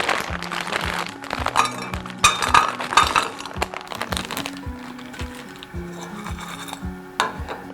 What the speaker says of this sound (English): Here we have some berries, some frozen strawberries. I'm just gonna pop that into the pan.